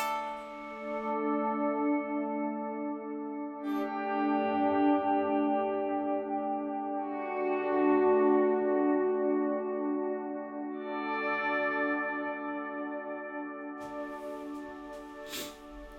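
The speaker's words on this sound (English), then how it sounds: "maybe throw that on with this big reverb and delay and see what kind of a pad sound that creates" Sustained electric guitar pad tone run through chorus, big reverb and delay, a thick warbling wash of held chords that swells and shifts over sixteen seconds, alone without talk.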